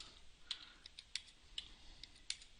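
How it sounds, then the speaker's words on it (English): Keys are pressed on a computer keyboard, a quiet, close series of light irregular clicks spaced roughly every half second with no talk. "if I run this and I press some key in my keyboard"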